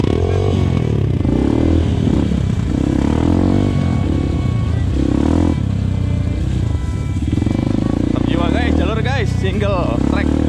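Motorcycle engine accelerating along a narrow single-track trail, a steady loud drone throughout with people talking over it and a brief rising whine near the end.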